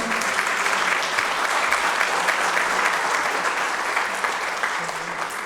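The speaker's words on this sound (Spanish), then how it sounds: "Un aplauso, por favor." An audience applauds at an award ceremony held by an addiction rehabilitation clinic, steady, dense clapping throughout that tapers slightly toward the end.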